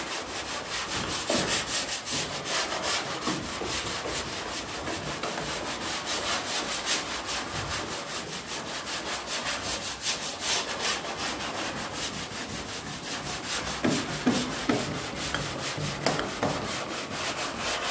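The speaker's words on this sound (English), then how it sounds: "Let's see if it sands any faster." Continuous abrasive rubbing of sandpaper over car body paint in a home garage, a steady dense scratching that runs the whole time with small surges in intensity and no talk.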